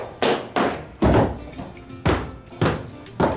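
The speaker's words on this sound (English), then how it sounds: "Nothing on two legs should walk that loud." Heavy, loud footsteps of someone walking with an ankle monitor, a run of six evenly spaced thudding steps, close and alone.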